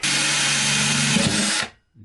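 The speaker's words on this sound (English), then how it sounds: "I'll drill it" A power drill runs steadily, boring a pilot hole through a van floor during a shower build, loud and close with a constant whine for about a second and a half before stopping abruptly.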